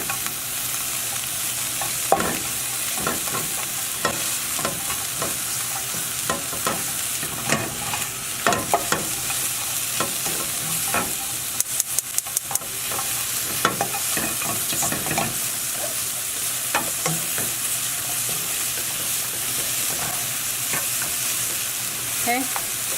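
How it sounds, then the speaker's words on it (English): Spinach, mushrooms and other vegetables fry for an omelette, a constant close sizzle broken by frequent utensil scrapes and a quick run of taps against the pan. "Cook until the vegetables become soft."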